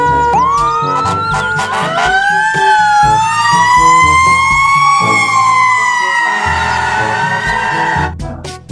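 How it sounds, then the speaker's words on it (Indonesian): A toy fire truck's electronic siren wails loudly and continuously, its pitch sweeping up and holding in a rising, warbling tone before cutting off near the end. "Yang ini ada mobil pemadam kebakaran."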